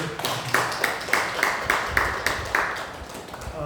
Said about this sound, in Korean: 우리 박수로 한번 감사를.